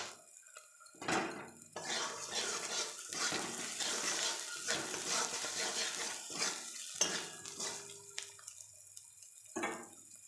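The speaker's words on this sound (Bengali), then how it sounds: "এভাবে নেড়ে দেবো মশলাকে।" A spoon scrapes and clanks against a pan as salt, chilli powder and other spices are stirred together with spinach and prawns. The metallic knocks come in irregular bursts with short quiet gaps between them.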